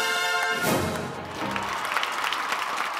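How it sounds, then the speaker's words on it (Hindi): An audience at a Bhojpuri film awards show claps loudly and steadily, a dense sustained wash of applause mixed with stage music and crowd noise. "जोरदार ताली।"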